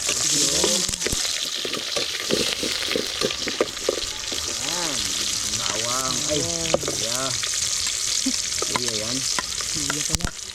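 Onion sizzles in a pan with a steady crackling hiss, while people talk and call out close by over the frying.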